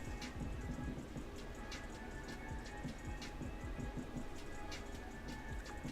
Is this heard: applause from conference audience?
no